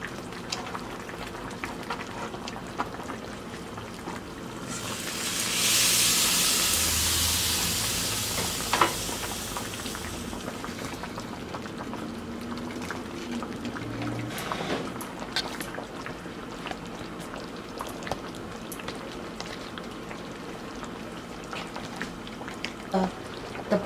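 Chicken wings, rice and potatoes cooking together in a pan, with a brief loud burst of steamy hissing sizzle when the potatoes go in, fading to a low steady simmer with light clatter.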